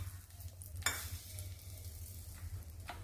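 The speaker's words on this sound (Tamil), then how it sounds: "கொஞ்சமாக இந்த மாதிரி எண்ணெயை பாயில் பண்ணி அதில் கடுகு உளுந்த பருப்பு போட்டுக்கலாம்." Mustard seeds and urad dal dropped into a little hot oil as tempering for a coconut-free chutney. A faint, low sizzle is broken by a couple of short, sharp crackling bursts, with no voice.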